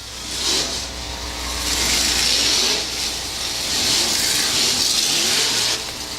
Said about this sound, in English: Your 360 sprint car main event.